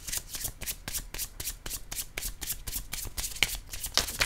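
A fresh tarot deck is shuffled close up for a Scorpio reading, with crisp rhythmic riffles repeating about twice a second and a few light card taps and no talking.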